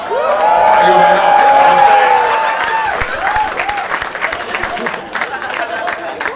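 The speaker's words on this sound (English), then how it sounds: "Huge round of applause for Modi ji." Studio audience at a comedy game show breaking into loud applause with cheers and whoops, strongest at first and then thinning out, with a tonal hum and sustained voices riding over the crowd.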